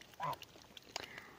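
A single short, loud honk from farm geese rises briefly, followed by a few faint, scattered bird calls in a quiet yard.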